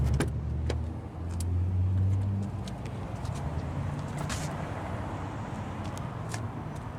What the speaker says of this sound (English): And you got your power windows